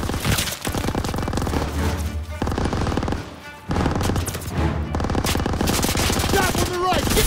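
Rapid gunfire in a World War II urban street battle in the video game Call of Duty WW2: dense, loud bursts of automatic and rifle fire nearly continuous, with brief pauses, and shouted voices mixed in.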